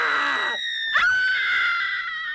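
A woman lets out a loud, sustained high-pitched scream in an Indiana Jones and the Temple of Doom film scene; the scream breaks and shifts pitch partway through, then holds on.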